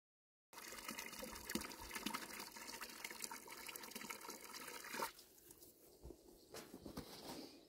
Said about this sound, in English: Now with some fresh water, I'm just gonna dunk this in, give it a slosh around.